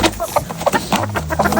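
Hens cluck repeatedly in a short, busy burst close by, several birds overlapping in a lively coop.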